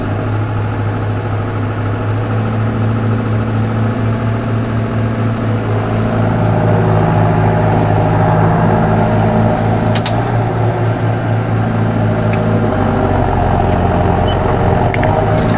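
A tractor drives across a field while spreading fertilizer, its engine droning loud and steady up close, with a slight rise in tone partway through.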